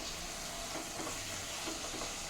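Mutton kothu kari, Kongunadu style, stirred in a frying pan, giving a steady close sizzle with soft scraping of the spoon throughout, no talking.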